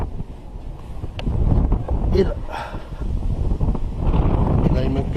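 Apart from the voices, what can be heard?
strong wind blowing on the microphone outdoors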